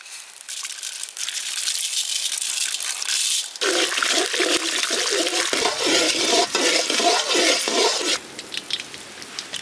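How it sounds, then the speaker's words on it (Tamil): Mustard seeds, chana dal and urad dal spluttering in hot coconut oil, first a steady broadband hiss, then louder crackling with rhythmic stirring pulses before it quiets toward the end. "தேங்காய் எண்ணெய் ஊற்றிக்கலாம், கடுகு போட்டுக்கலாம், கடலைப்பருப்பு உளுந்து போட்டுக்கலாம்."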